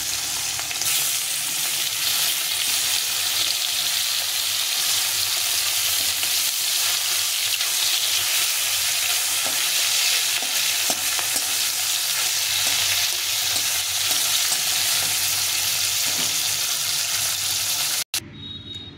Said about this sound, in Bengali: এখন বাকি মাছগুলো একটু ভেজে নেব মুড়োটা।